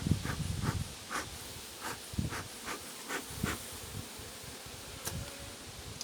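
Honey bees buzzing around an opened beehive form a faint, steady drone, with a few louder buzzes as single bees pass close.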